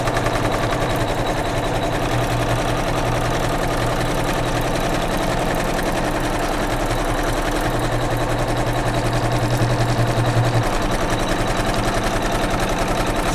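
A computerized embroidery machine stitches out a placement template for a pieced quilt block on a patriotic pillow project, a steady mechanical hum and rapid needle drone running continuously and evenly at close range with no talking.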